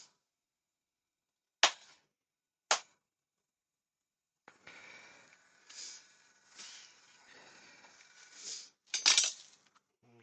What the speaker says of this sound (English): Just pick up the cut again.